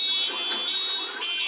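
A shop alarm rings after an explosion: a loud, continuous high-pitched electronic tone with a steady pulsing quality and no voices.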